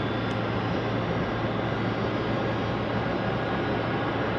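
Airplane taking off at night from runway 16 right at Sydney Airport, a steady broadband engine roar with a low hum underneath, continuous and fairly loud with no change across the span, no voices.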